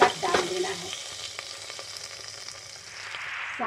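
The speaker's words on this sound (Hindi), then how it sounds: "अब ये जो दाल हमने बनाई थी उसके ऊपर ये तड़का डाल देना है।" Hot tadka tempering poured onto lauki dal bursts into a sharp sizzle, then settles into a steady crackling hiss with faint stirring sounds.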